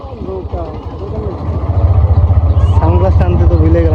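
A boat engine chugs steadily in rural Bangladesh, a loud low rumble that builds and grows stronger partway through, while people talk close by over it.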